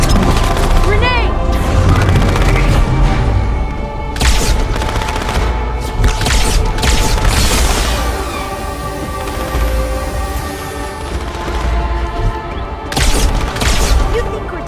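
A grenade goes off amid a firefight in the Halo 2 campaign, a heavy blast among dense gunfire and booming impacts that stay loud and continuous throughout, with voices calling out under the noise.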